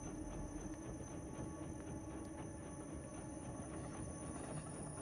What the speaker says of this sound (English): And a train.